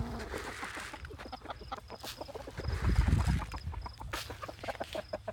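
Backyard hens clucking and murmuring nearby while being offered scratch feed, with a steady run of soft clucks that swells briefly in the middle.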